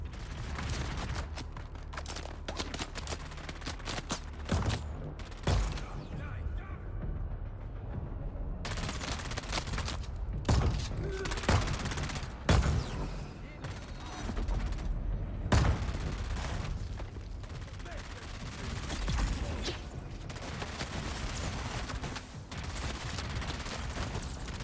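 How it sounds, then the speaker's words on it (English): Missile wands firing in the Dune: Awakening video game, a dense, continuous volley of sharp blasts and booms with no talk over it, loud and close throughout. "they are armed with, missile wands!"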